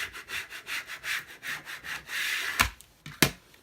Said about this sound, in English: So I'm just going to make sure I'm rubbing this way so that I don't make any indentations in these letters.